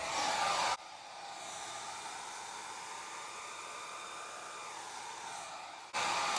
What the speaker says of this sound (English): I'm gonna hit that with a hairdryer really quick